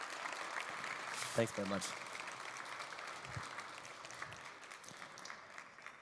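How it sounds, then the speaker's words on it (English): Audience applause at a green careers conference panel, moderate and somewhat distant, fading gradually while a voice briefly speaks over it. "Everyone, please give him a round, loud applause."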